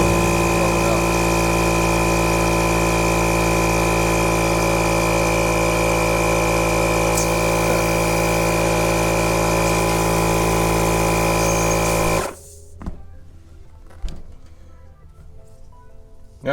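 A Milwaukee 2475-20 compact inflator pumps up a ball to about 11 PSI with a loud, steady motor drone for twelve seconds. It then cuts off abruptly, followed by a couple of faint clicks.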